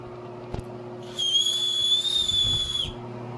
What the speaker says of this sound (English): Oh yeah, and this is a whistle.